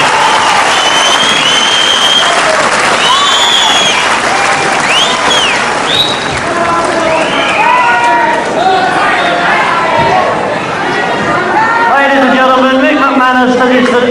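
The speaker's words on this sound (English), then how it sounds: "I'm sure that everyone here will give a magnificent round of applause for this brilliant youngster, Steve" A wrestling crowd at a 1977 UK bout applauds young wrestler Steve Gray, sustained loud clapping mixed with whistles, cheers and crowd voices throughout.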